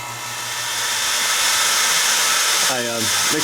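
A vacuum pump degassing a freshly mixed batch of platinum silicone, a close, loud, steady rushing hiss that builds and holds, with a voice briefly cutting in near the end.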